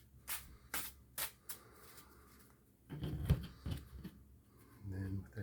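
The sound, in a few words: shuffling a tarot card deck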